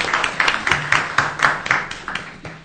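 An audience at a conference presentation claps, a brief, fairly close burst of applause with distinct hand claps in an uneven rhythm.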